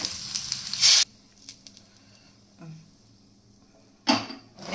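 Mustard seeds and asafoetida hit hot oil for tempering: a loud close sizzle bursts at the start, drops to near silence with faint crackles and a soft thud, then surges again near the end.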